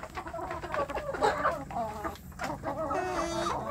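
Several free-range village chickens cluck and chatter continuously at close range, overlapping calls with no talking.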